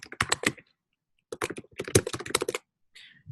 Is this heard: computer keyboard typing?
yes